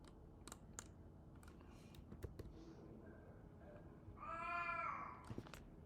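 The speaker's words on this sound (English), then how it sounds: "Can you hear the cat?" An old blind cat gives one drawn-out meow partway through, mid-distance and moderately loud, over soft computer keyboard typing and clicks in a quiet room during an art livestream.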